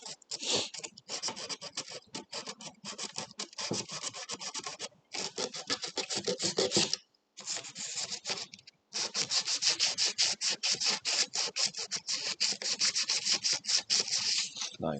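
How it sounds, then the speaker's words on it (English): Metal armor is scraped out at an inside corner in a workshop, producing repeated close rasping strokes in quick bursts, with a couple of short pauses between runs. "I'll just scrape it out."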